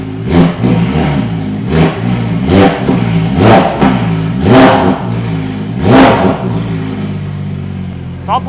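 A cold Porsche 911 GT3 RS engine warming up with a series of sharp revs, about five rising blips spaced roughly a second apart over a steady idle, loud and close, ending in a smoother settle.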